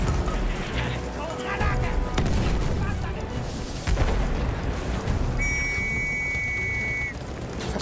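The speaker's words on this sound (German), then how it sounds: "Aufpassen, Granate raus!" A grenade blast in Battlefield 1 amid wartime battle chaos, with booms and scattered gunfire under continuous combat noise, followed by a high whistling tone near the end.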